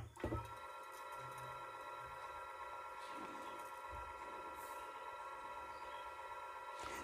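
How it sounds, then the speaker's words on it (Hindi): A ceiling fan wired with a capacitor runs in reverse, giving a steady electrical hum with a constant whine throughout, after a brief thump at the start, with no talking. "दोस्तों हमारा पंखा भी उल्टा डायरेक्शन में चल रहा है"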